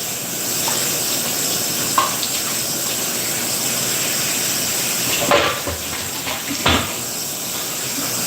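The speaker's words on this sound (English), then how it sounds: "rinsing the sink where all the carrot just flew" Water from a kitchen tap rinsing carrot peel scraps down a sink, a loud, steady rushing stream with a few knocks and splashes over its constant hiss.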